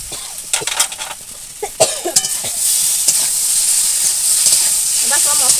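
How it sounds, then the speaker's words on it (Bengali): Spice pastes of ground chilli and cumin being stirred into vegetables in a pan, with scraping clinks of a utensil early on giving way to a steady, close sizzle of frying in the second half. "এবার সব মশলাগুলোকে ভালো করে সবজির মধ্যে আমি একসঙ্গে ভালোভাবে মিশিয়ে নেব"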